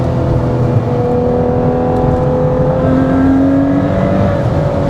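A Ferrari 812 Superfast's V12 engine and exhaust pull hard on the autobahn in sport mode, a loud, close, steadily rising howl that climbs through the revs with no speech.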